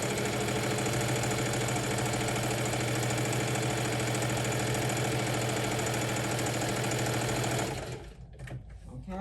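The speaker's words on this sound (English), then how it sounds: "So I'm just sewing a straight stitch across." A sewing machine runs a straight stitch across a quilted crossbody handbag made from a scarf bandanna, a steady loud mechanical whir that holds for about eight seconds and then stops abruptly.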